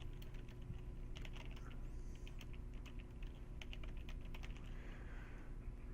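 Rapid, soft typing on a computer keyboard, a quiet irregular patter of key clicks over a low background hum, with no voices.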